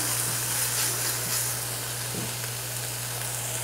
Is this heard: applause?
no